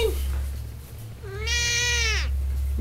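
A cat lets out one clear, drawn-out meow close by, rising and falling over about a second, set against a steady low hum in the background.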